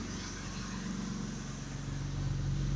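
A BMW E38 7 Series with an automatic gearbox, left abandoned for two years, rolls out slowly; a steady, close low engine rumble holds throughout, growing slightly louder near the end.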